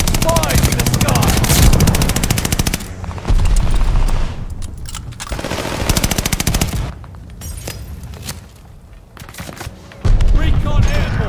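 Hostile aircraft strafing the ground in the shooter game Call of Duty: Vanguard, long loud bursts of rapid machine-gun fire broken by short gaps, with an engine drone and voices mixed in.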